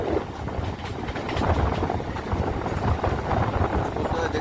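Local train running on the Bardhaman–Howrah main line at night, heard from on board as a loud steady rumble with faint rhythmic wheel clatter and wind rush throughout.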